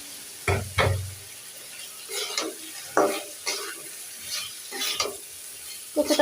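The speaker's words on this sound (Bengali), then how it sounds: "সুন্দর করে কষিয়ে নিচ্ছে" Spices fry and sizzle in a pan while a spoon scrapes and stirs in repeated strokes, with soft clinks between them, close by and with no talking.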